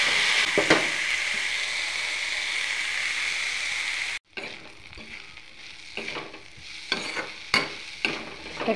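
Boiled dried fish sizzling and frying in a pan over a low flame with turmeric and salt. A steady hiss gives way to a quieter sizzle after a brief stir, and scraping stirs recur near the end. No voices.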